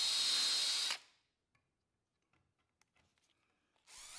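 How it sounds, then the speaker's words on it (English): A power drill whirs loudly for about a second while pre-drilling wood, stops, then a few faint clicks and handling taps follow before the drill starts again. "I also just pre-drill everything to avoid splitting of any wood."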